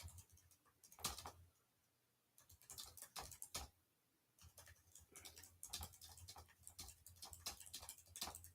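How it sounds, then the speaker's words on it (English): Someone types picks into a computer keyboard at the 2024 NHL Draft. Quick bursts of close, quiet key clicks are broken by short pauses. "We're going to start typing in picks here."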